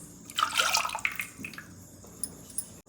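Juice from cooked spinach is poured into a mixer jar for soup, a short watery splash and trickle that peaks early, then tapers into scattered drips and light clinks.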